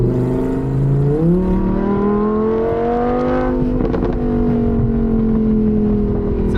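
A Lamborghini Huracán Performante Spyder with a red soft top, 640 horsepower, accelerates hard on a Tokyo road, its engine note climbing through rising gears with a shift, loud and steady from close by.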